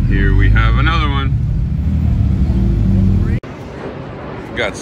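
A car driving along the road gives a continuous loud low rumble with talking over it, then cuts off abruptly near the end, leaving quieter background noise.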